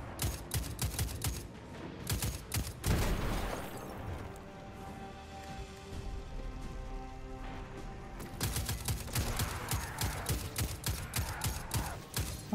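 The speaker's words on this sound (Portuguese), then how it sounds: "Will, lembra que você tá com uma metralhadora, você clica e se cura" Weapon fire in the video game Destiny 2, with dense bursts of sharp reports and impacts at the start and end around a quieter stretch carrying steady game tones.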